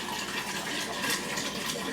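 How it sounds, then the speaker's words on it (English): Vinegar gushing into a jar for pickled pork skins, a continuous close bright pouring hiss that holds steady for about two seconds, with no talk. "I'm going to add my vinegar to my jar."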